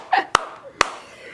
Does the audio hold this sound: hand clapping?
yes